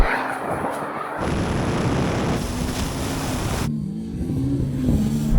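A Tesla Model S Plaid, Ferrari SF90 and Porsche 911 Turbo S launch together in a drag race, a loud sustained roar of engines and wind rushing past an outdoor microphone, with a rising engine tone toward the end.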